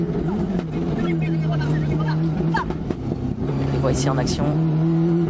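Ford Escort rally car driving flat out on a stage of the Rallye des Cévennes, a loud steady engine drone with rising gear pulls and sharp high revs, heard under a commentator's talk.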